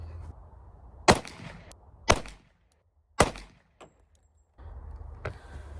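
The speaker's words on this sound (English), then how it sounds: "So let's go ahead and shoot some groups." A 1911 .45 ACP pistol fitted with Dawson Precision sights fires three loud, close shots about a second apart, followed by a fainter fourth report, with steady background rumble between them.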